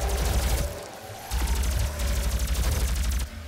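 Pulse rifle in DOOM (2016) firing rapid bursts, a loud near stream of fast shots with a brief pause near one second before the fire resumes.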